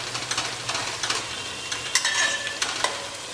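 Onions fry in a pan for a chicken curry with spinach, a steady sizzle broken by scraping stir strokes and occasional clinks of a utensil against the pan.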